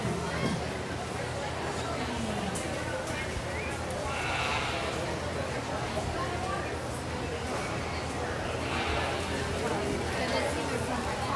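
Sheep bleat intermittently amid the crowd murmur of a junior fair sheep show at the Defiance County Fair, with people chattering throughout.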